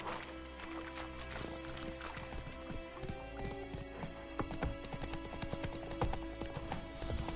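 Roach the horse walks in The Witcher III, with steady clip-clop hoofbeats in an even rhythm, fairly close and clear over soft background music, plus an occasional whinny.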